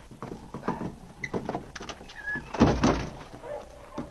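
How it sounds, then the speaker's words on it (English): A thick wooden plank door is unbarred and pulled open: scattered knocks and scraping wood lead to a louder heavy thud and drag near the middle, then quieter rattles. "I'll reach through and unbar the door from the outside."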